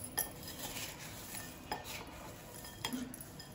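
A spoon stirs roasted Maggi bhel in a bowl, making close, steady scraping and soft clinks with a few sharper metallic taps, and no talking over it.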